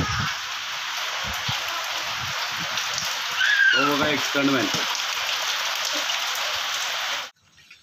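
Heavy monsoon rain pours down on a village in Ratnagiri, a dense steady hiss of drops striking surfaces; someone speaks briefly partway through and the downpour cuts off at the end.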